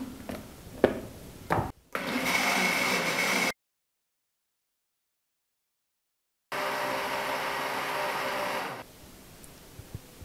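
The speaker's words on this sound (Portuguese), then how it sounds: "Eu vou ligar de novo o liquidificador" A blender mixing ground-meat pie batter ingredients, including cream cheese, whirs steadily in two loud bursts, separated by several seconds of silence, with a brief rubbing noise before the first run.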